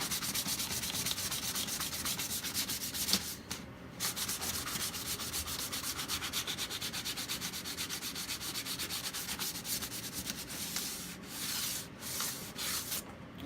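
Steady, fine-grained rubbing of 400 grit sandpaper by hand without a block, continuous back-and-forth scratching with a couple of brief pauses, close to the microphone.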